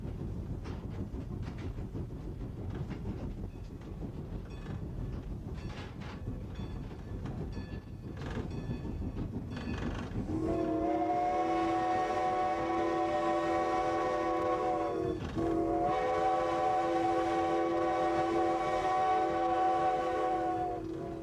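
Heavy chugging rumble of a historic steam locomotive on the Strasburg Railroad, then a long, loud whistle blast sounds twice with a short break, over continuous train noise.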